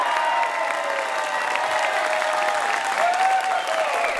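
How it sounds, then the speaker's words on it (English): Audience applause for a Brazilian Jiu-Jitsu and MMA figure receiving a coral belt at a grappling event, steady dense clapping from a crowd throughout, loud and continuous with a faint cheer or two. "Let's clap it."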